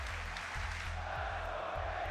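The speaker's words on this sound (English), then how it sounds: "Crowd support rallying now." An esports arena crowd at a Counter-Strike major match between FaZe and The MongolZ cheers and rallies in a steady distant roar, low and continuous behind faint ambient hum.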